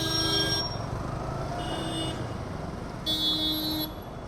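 Road traffic drones loudly around a rider on a Yamaha R15 motorcycle, with car horns honking behind in a few sustained toots, one early and a longer one near the end.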